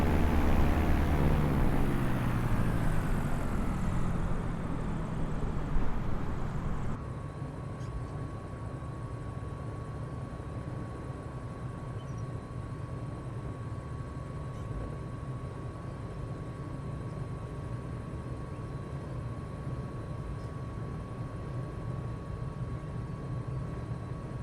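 The engines of a Diamond DA62 twin-engine aircraft drone in Microsoft Flight Simulator 2020. A loud, rising roar shifts around the seven-second mark into a steadier, slightly quieter hum with a thin whine that holds to the end.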